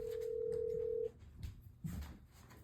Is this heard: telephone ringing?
yes